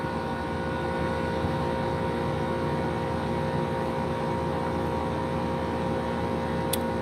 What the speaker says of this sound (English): That noise is my AC unit. I hope it's not too loud.